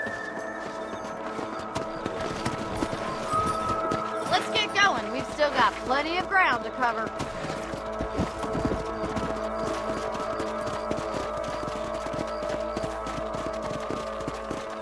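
Horse hooves clip-clopping and galloping in the Red Dead Redemption western game on Xbox One, a steady rhythmic patter running throughout at moderate distance, with a voice speaking briefly over it.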